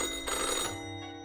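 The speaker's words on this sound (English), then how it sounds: "The phone, old-fashioned phone, suddenly ring with an ear-piercing metallic clatter" An old-fashioned telephone in a video game rings with a loud, sustained metallic bell clatter that fades out toward the end, heard alone without speech.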